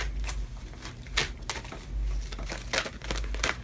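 Tarot cards being shuffled by hand during a reading, giving repeated crisp riffling and crinkling bursts at close range with no talk.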